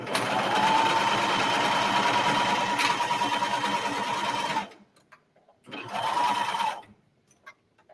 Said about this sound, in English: we're going to use the serger again to sew this